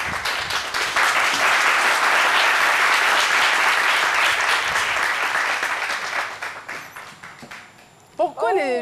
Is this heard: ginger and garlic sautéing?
no